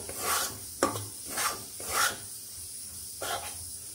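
Semolina stirred and fried in ghee in a pan, heard as soft rhythmic scraping and rasping strokes of a spoon against the pan bottom, a few sweeps per second, close and quiet.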